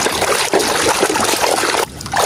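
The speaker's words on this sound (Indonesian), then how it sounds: "Ayo kita cuci bersih." Water trickles and splashes steadily over a large yellow toy car being washed, a close, continuous wet rushing with a brief pause near the end.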